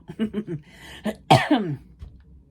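A couple of short, harsh coughs close to the mic, following some muffled noise.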